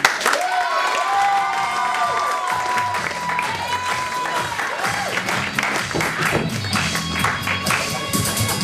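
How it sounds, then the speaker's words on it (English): An audience at a stand-up comedy show claps and cheers to welcome a comedian to the stage. The dense applause runs steadily for about eight seconds, with whoops and shouts mixed in. "give a round of applause for Ben"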